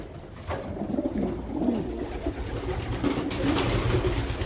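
Several pigeons coo softly and continuously, their low murmuring calls overlapping against a faint rustling background.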